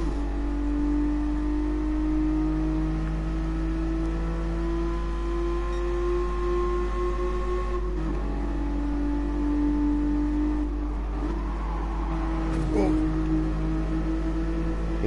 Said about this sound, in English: the reverb through the tunnel is really, really nice at this exhaust note